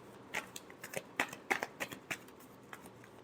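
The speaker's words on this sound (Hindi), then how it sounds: "Last shuffle." Tarot cards being shuffled by hand in a final pass before a reading, giving a string of soft papery riffles and flicks at an irregular rhythm, close and fairly quiet.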